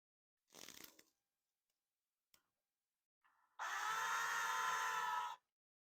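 A brief rustle, then a power drill whirs steadily for about two seconds up close, driving a screw into a black iron pipe plant hanger, before stopping abruptly.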